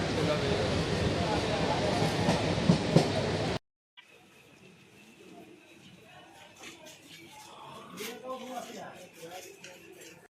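Express train from Bhubaneswar to Keonjhar running: loud rolling rumble and rattle from inside the carriage, cutting off abruptly to quieter clatter, faint clicks and a soft hum, with people talking throughout.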